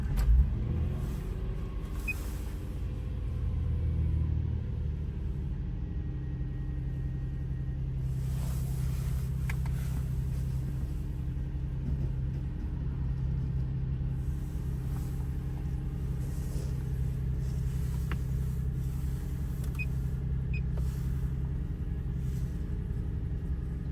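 A Subaru EZ30 flat-six engine idling outdoors in winter, a steady low rumble throughout with a brief surge near the start, no voices.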